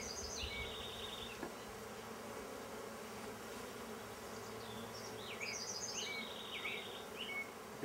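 Guard bees buzz in a steady, close drone at an opened top bar hive, with faint bird chirps flickering above the hum.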